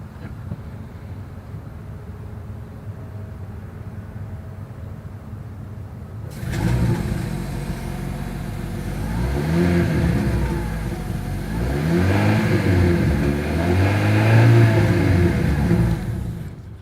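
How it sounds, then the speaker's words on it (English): A 2023 Hyundai Sonata Hybrid starts up after a quiet stretch, then its exhaust rises through several loud, swelling revs before settling, heard close and alone. "As always, here is that exhaust clip."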